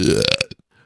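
One loud, close burp with a low rumbling pitch trails off quickly into a few faint throaty clicks.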